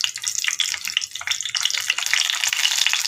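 Two green chilies dropped into oil for a fish dish, crackling and spitting in quick irregular bursts with a bright sizzle, close and with no voices.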